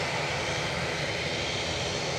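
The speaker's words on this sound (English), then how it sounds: "Next inbound is Ryanair from Rome." A Ryanair airliner inbound from Rome at Edinburgh Airport, its engines giving a steady broad roar at moderate distance, continuous with no voices.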